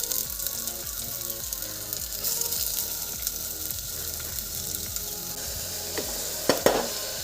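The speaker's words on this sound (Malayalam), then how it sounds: "ഇവിടെ ആട്ടിയ വെളിച്ചെണ്ണയാണ് അപ്പോൾ അതിലേക്ക് നമ്മൾ ഉള്ളിട്ട് കൊടുക്കാം" Onions fry in coconut oil in a hot pan, a continuous crackling sizzle with rhythmic scraping, then a couple of louder clatters near the end, close and fairly loud with no voices.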